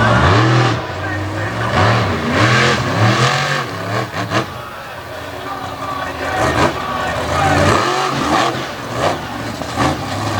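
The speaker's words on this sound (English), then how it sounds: "this awesome Patrick Chassis monster truck. He's putting it to work." Patrick Chassis monster truck engine at a Winchester event, repeatedly revving and surging loud and close through a run, over an announcer's voice.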